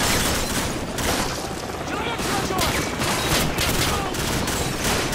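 Dense, continuous gunfire and explosive bursts fill a Call of Duty 4: Modern Warfare firefight, loud and unbroken for several seconds with overlapping shots and booms.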